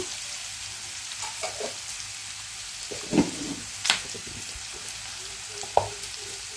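Green chilli slits frying in a pan of oil for puri curry, a soft steady sizzle with a few stirring clinks and scrapes, no voices.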